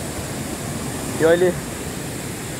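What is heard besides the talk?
water flowing out from a drinking-water dam tank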